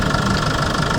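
The engine of a delivery truck runs at a steady idle with a low, knocking rumble. It is close and loud, with no other sounds throughout.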